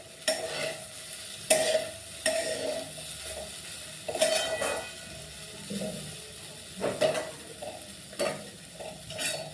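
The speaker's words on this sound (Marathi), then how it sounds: "भेंडी मंद आचेवर होऊ द्यायची" Okra (bhindi) frying over low heat in a pan for a quick home-style vegetable dish, with repeated scraping stirs and a soft steady sizzle, moderately close and without talk.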